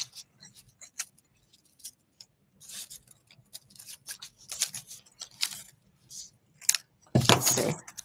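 Scissors snip through dried plant stems for a craft, giving quick crisp cuts in irregular bursts, close and fairly quiet, ending with a louder rustle of handled foliage.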